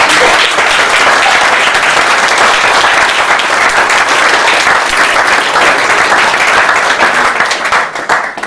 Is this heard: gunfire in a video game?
no